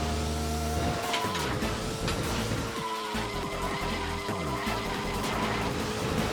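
A kart in Mario Kart DS is struck by road traffic: a sudden clash with skidding and a squealing whinny-like cry over loud, continuous game music and engine drone.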